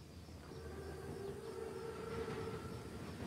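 A train approaches in the World War II shooter Call of Duty WWII, a steady rumbling rail noise with a sustained siren-like whistle tone rising over it, loud and continuous with no talk.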